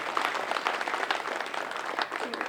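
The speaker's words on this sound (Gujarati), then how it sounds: "આપણે બધા એકવાર જોરદાર તાળીઓ સાથે" An audience at a district-level school cooking competition claps steadily and moderately loud, a dense patter of many hands heard at some distance, with no talk over it.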